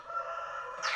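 A voice imitates a rooster's cock-a-doodle-doo, a single sustained, harmonically rich crowing cry that rises and brightens at the end.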